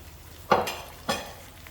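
Garlic, ginger and green chili hit a pan of golden brown fried onion, giving two short bursts of sizzling and stirring close by, with quiet sputter between.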